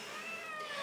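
A pet cat lets out one close, clear meow that rises and stretches out, heard on its own with no voices.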